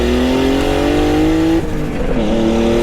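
A turbocharged BMW E36 323i pulls hard in second gear, its loud engine note climbing steadily with rising harmonics before a brief dip around a shift or lift, then building again, close and continuous with no talk.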